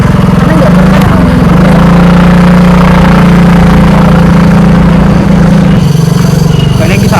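A motorcycle engine runs loudly and steadily close by during a ride on the way to the Curug Indrakila waterfall, a constant droning hum with slight wind rush and no pauses.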